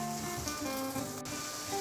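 Two finely chopped medium onions frying in hot oil with cloves and cinnamon stick, a steady soft sizzle and crackle holding at an even level throughout, with no voices.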